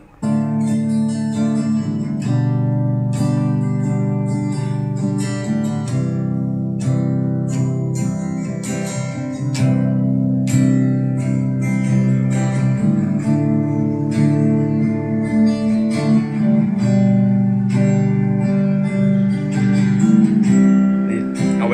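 An electric guitar plays through a USB guitar link cable, a continuous solo line over a steady sustained backing, loud and constant throughout, with no voices.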